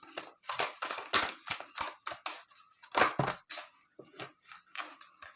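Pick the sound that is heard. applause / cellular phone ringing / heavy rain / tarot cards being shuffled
tarot cards being shuffled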